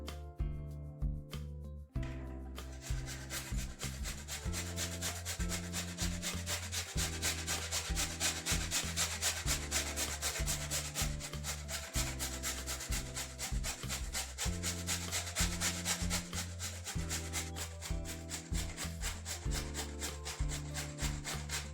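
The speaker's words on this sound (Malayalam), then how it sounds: "ഇനി നമുക്കതൊന്ന് ചെറുതായിട്ട് ഗ്രേറ്റ് ചെയ്തെടുക്കാം." Beetroot for pachadi is grated by hand, giving steady rhythmic rasping strokes, close and loud, with no talking.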